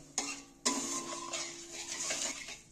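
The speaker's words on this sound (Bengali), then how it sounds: "চিনিটাকে এরকম ভাবে নাড়িয়ে নাড়িয়ে পাক করে নেব।" A spoon stirring sugar and jaggery into syrup in a pan, with soft scraping and metallic clinks; two sharp knocks mark the start, then quiet continuous stirring with a faint steady hum behind it.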